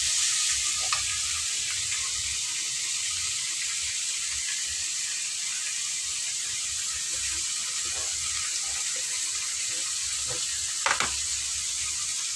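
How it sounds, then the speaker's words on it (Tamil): Tomatoes sautéing with softened onions in a pan for a mushroom kurma, a steady close sizzle of frying throughout with a few faint utensil clicks and scrapes, no talking. "தக்காளி போட்டு கொஞ்சம் நேரம் வதக்கிட்டு"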